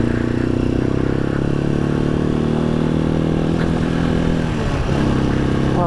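A Halcyon 250 motorcycle rides along a Vermont road, its engine droning steadily and close with a continuous hum, road clatter and light scraping beneath, the engine note shifting slightly near the end.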